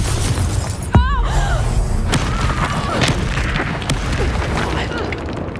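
A single sharp blast from the Confringo fire spell in the Hogwarts Legacy video game bursts out amid ongoing battle noise, with character voices heard around it.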